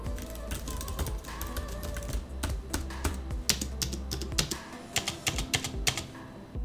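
Typing on a Keychron K1 V4 low-profile mechanical keyboard produces quick, crisp keystroke clicks in uneven bursts, close and fairly quiet, with a faint low hum in the background.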